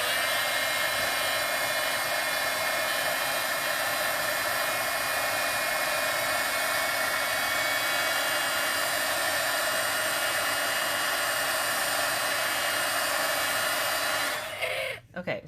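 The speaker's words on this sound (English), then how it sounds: "I'm just going to use my heat gun to dry it up quicker" A heat gun blows steadily to dry ink on a handmade paper card, giving a loud, continuous whirring hiss that runs unbroken for about fourteen seconds before cutting off abruptly.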